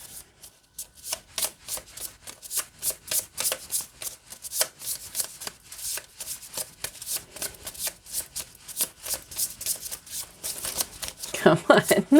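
A deck of tarot oracle cards being shuffled by hand, a steady run of quick crisp riffling bursts up close, with a rougher clatter near the end.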